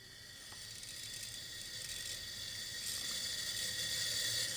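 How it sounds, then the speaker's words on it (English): A thin, steady hiss of air being drawn through a car's fluid line while the brakes are bled, faint and continuous and slowly growing a little louder, with no talking. "I don't know if you can hear that, but we're pulling air through the line."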